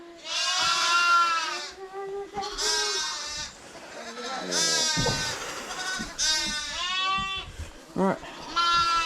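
Several young lambs bleat repeatedly in a lambing pen, overlapping high wavering cries close by, with some rustling between calls.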